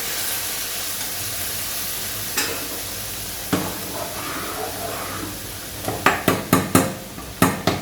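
Chicken fries with crisp fried onions in a pan for homemade chicken haleem. A steady hissing sizzle runs throughout, and a quick run of sharp spoon scrapes and clacks comes near the end.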